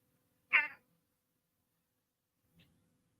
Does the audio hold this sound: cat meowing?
yes